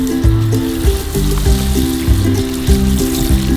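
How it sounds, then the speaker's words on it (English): Water trickles steadily onto a freshly planted lavender flower in garden soil, a close, continuous pouring sound over a low background hum. "And now let's water it a little bit more."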